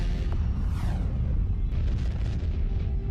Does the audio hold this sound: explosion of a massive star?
yes